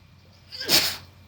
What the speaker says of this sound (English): I had to sneeze there for a second